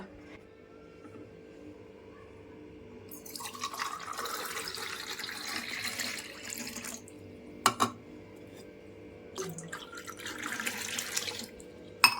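Water is poured in to make buttermilk, a splashing gush running for several seconds and then in shorter bursts, with quiet surroundings between.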